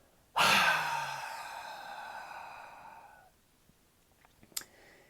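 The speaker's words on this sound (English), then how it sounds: "Breathe in through your nose and make it a strong breath in. And then release with a full exhale." A strong breath drawn in sharply through the nose, followed by a long, full exhale that slowly fades, close and alone, with a few faint clicks afterward.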